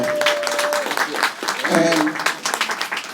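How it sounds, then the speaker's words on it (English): Town hall audience applause for Pedro, a housing advocate, dense sustained clapping with voices and cheers mixed in, steady and fairly loud. "he deserves a round of applause"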